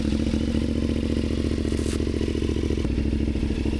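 A CFMOTO 450MT motorcycle with a full system exhaust and tuned ECU runs steadily, a throbbing twin-cylinder idle with slight revving, near and fairly loud throughout, with no talking.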